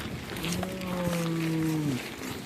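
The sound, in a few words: tiger vocalizing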